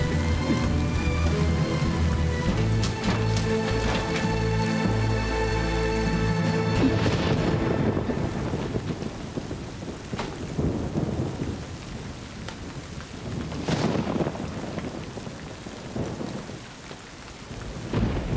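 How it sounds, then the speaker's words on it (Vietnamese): Sudden heavy downpour with thunder, a dense steady roar of rain on surfaces with rumbling thunder, loud and continuous throughout, easing slightly in the second half. "Đang nắng đẹp sao tự nhiên mưa lớn dữ vậy?"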